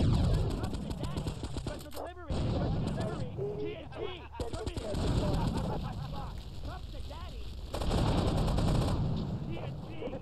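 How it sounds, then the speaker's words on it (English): Rapid micro SMG bursts in GTA 3 Definitive Edition, repeated chattering volleys mixed with game effects and a talking voice throughout. "The micro SMG is probably the best weapon on this because you can use it while move and shoot"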